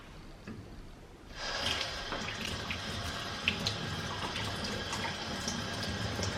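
After a quiet start, a tap turns on and water runs steadily into a sink while an Achatina snail is washed, close by, with faint splashing over the flow.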